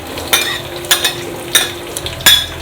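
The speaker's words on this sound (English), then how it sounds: "So I'm adding my onions now" Onions go into a hot pan with a few sharp stirring scrapes over a steady low sizzle, nearby and fairly loud, no voices.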